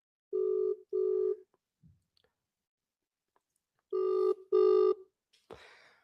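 A phone call's ringback tone plays two double rings, pairs of short buzzing tones separated by a long silent gap, fairly faint, followed by a soft click and brief noise.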